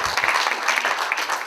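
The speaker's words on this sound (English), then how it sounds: "Give him a warm round of applause." Audience applause at a talk event, a short burst of dense clapping heard alone.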